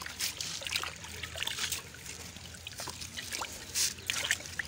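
Water trickles and splashes while rabbit food is washed, a soft continuous running sound with small irregular splatters, close and fairly quiet.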